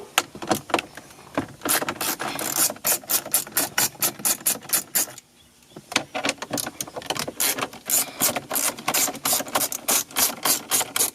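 A ratchet wrench clicks out 10 millimeter bolts during a car stereo install in a Lexus GS300, giving bursts of quick, close ratcheting clicks with a brief pause midway, with no voices.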